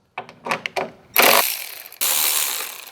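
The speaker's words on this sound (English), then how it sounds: "So we're going to remove two 10mm bolts." A ratchet backs out two 10mm bolts on a 2022-or-newer Chevrolet Silverado 1500, first as a few quick clicking bursts, then as two louder, longer whirring runs close to the listener.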